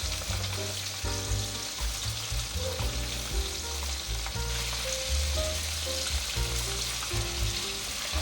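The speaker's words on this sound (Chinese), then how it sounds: "素鸡腿放进来后，不要一直翻动，先让它炸定型，再来翻。" Vegetarian chicken drumsticks deep-fry in hot oil with a steady, close sizzle and crackle that continues throughout, while background music plays.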